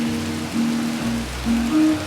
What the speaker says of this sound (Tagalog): Lumipat kami dahil umuulan.